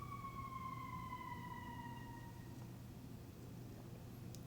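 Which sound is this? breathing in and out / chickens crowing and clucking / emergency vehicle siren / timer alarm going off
emergency vehicle siren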